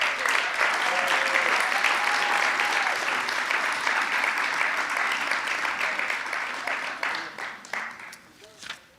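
Loud, dense applause from a live poetry audience fills the room, then thins into scattered individual claps and fades, with some voices mixed in as it dies down.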